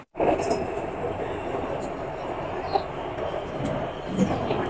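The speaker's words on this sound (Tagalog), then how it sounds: "Ayan, dumating na ang tren ko." A train rumbles steadily into a station, a continuous low roar with faint clatter and a couple of brief squeaks, fairly close and loud throughout.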